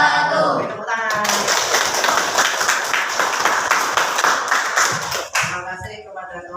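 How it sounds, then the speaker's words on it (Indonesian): A classroom of students claps hands together after a group presentation during a teaching practice session, a dense burst of clapping running steadily for several seconds with voices underneath, then tapering off near the end. "Tepuk tangan"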